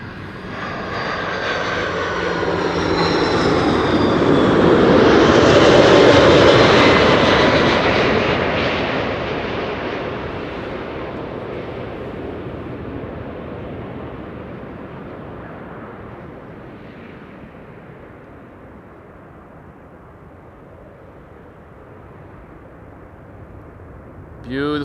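A jet airliner arriving at Amsterdam Schiphol Airport with thrust reversers applied gives a loud, broad roar that swells over the first seconds, peaks, then slowly fades into a distant rumble.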